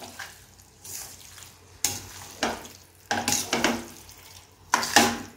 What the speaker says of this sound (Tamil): ஒரு நிமிஷம் இந்த சிக்கனை இந்த மசாலோடு சேர்த்து கொஞ்சம் நல்லா வதக்கிக்கணும்